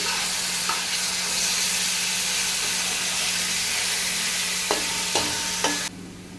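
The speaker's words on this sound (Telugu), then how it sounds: "ఇదంతా కూడా పచ్చివాసన పోయేంత వరకు ఆయిల్లోనే వేయించండి." Ingredients fry in hot oil for a Tamil Nadu style fish curry, giving a loud, continuous sizzle and hiss, with a few sharp scraping stirs of a utensil near the end.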